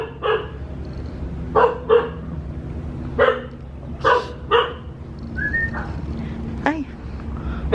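A dog barks several times in short separate bursts, fairly close, with a whistle and a few light whimpers in between.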